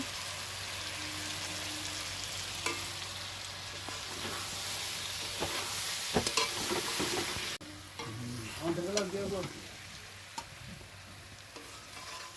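Spinach and red lentil curry sizzles softly in a pan while being stirred, with a continuous faint frying hiss broken by scraping and bubbling stir sounds throughout.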